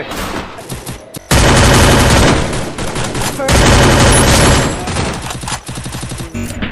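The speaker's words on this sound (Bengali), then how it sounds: "চালাও, চালা গুলি।" Rapid bursts of gunfire erupt in a comic short video scene, loud sustained automatic volleys with brief gaps between them and a few separate shots near the end.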